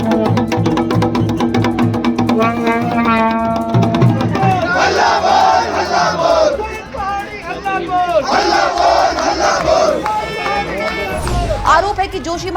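A crowd of protesters at a rally in Uttarakhand, some carrying drums, shouts and chants loudly together in a dense, continuous roar of voices, with rhythmic beats faintly underneath.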